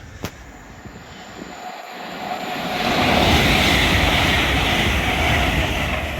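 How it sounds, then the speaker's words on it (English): An LNER Lumo train passes through Hitchin station on the East Coast Main Line, its roar building from about two seconds into a loud, steady rush that holds to the end. "Train passing is going to be an LNER Lumo working 5Y95."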